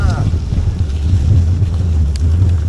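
Heavy buffeting wind rumbles across the microphone while cycling uphill into a headwind during a gravel race, a continuous low roar, loud and close, with no clear voices over it.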